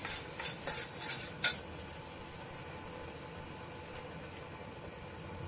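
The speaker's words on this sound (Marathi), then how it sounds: "आणि आता हे सगळं चांगलं असं परतून घ्यायचं।" Ground masala and mutton stirred in a pan with a spoon, a few clinks and scrapes in the first second and a half, then a steady low frying hiss, close and fairly quiet.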